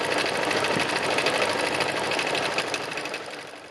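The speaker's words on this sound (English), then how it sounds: "So I'm just going to stitch this little piece down here as well." A sewing machine stitches fabric pieces together, a close, steady rapid whir and clatter of the needle running continuously without pause, easing slightly toward the end.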